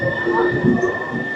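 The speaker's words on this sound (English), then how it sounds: "That's the train, look." Trenord train pulling away from a station near Milan, a steady close rumble of wheels on rails with a high whine running through it, loud and continuous.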